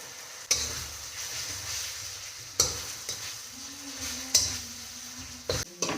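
Ginger, garlic and slit green chillies sizzle steadily in a pan. A spatula strikes the pan in a few sharp scrapes and knocks, spaced a couple of seconds apart. No one speaks.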